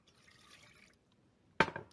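A small splash of water poured into a pan to soak dry figs, a faint trickle first and then a brief, sharper pour near the end, close and quiet with no voices.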